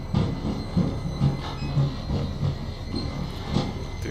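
Squealing rail-like screech from the Outlast horror game, a loose train-wheel squeal with low rhythmic clunks recurring about every half second over a steady rumbling background, fairly close and continuous.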